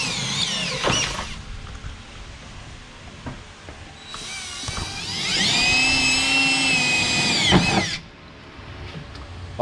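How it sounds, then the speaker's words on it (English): Power drill pre-drilling holes while mounting a Carter Customs side splitter on a car, heard as a short burst, then a longer high whining run of a few seconds that winds down, with clicks and handling noise between. "we'll pre-drill the rest of the holes"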